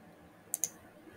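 A computer mouse gives two quick, crisp clicks close together, faint and close against a quiet room background.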